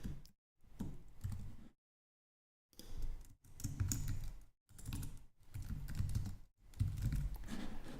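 Rapid computer-keyboard typing with bursts of clicking keys and brief pauses, close and fairly quiet while copying and pasting on a computer.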